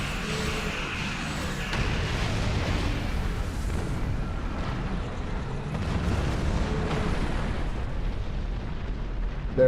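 A spaceship blows up in Star Trek Online, a deep rumbling explosion swelling into a second roaring blast with sustained booming noise over several seconds.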